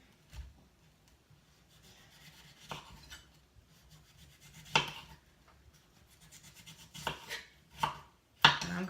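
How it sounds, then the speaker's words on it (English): A sweet potato is peeled toward a wooden cutting board in a kitchen, making soft, irregular scraping strokes with a few sharper knife scrapes against the board, quiet and close, with no talking. "peel it going towards the cutting board, taking a little layer off the outer edge"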